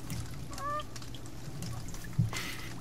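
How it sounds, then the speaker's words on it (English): A goose in the survival game The Forest honks a few times near a lake, with a short rising call early on over a steady low ambient hum. "It's a goose."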